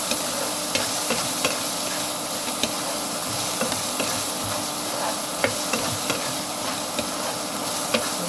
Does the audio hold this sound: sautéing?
yes